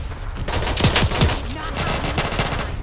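Rapid bursts of automatic gunfire from the video game Fallout 4 in the Nuka-World area, loud and dense with overlapping shots and ricochet-like whines, filling the whole moment.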